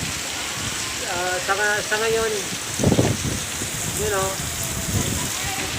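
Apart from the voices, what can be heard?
rain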